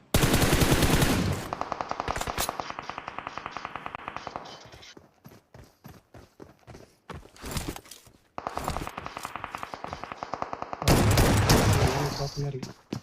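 Bursts of rapid machine gun fire in PUBG/BGMI, loud and sustained, stopping and starting with short quieter gaps between volleys.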